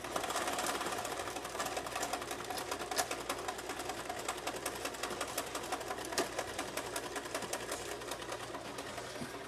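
Isaac Singer sewing machine stitching fabric, a steady fast mechanical whir with dense rapid needle clatter running continuously at moderate loudness, no talking.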